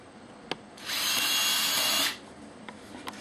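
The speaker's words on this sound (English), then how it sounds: "So first we'll use this properly sized drill bit." A power drill with a sized bit whirs steadily for about a second and a half while drilling a hole for a rivet, starting and stopping abruptly, with a few small clicks around it.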